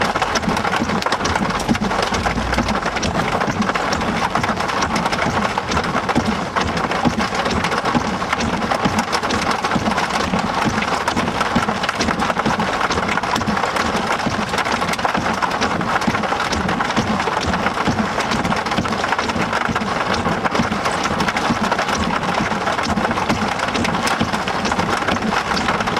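Heavy thunderstorm rain pours steadily and loudly over Oklahoma, with thunder rumbling low underneath, a dense unbroken roar with no voices.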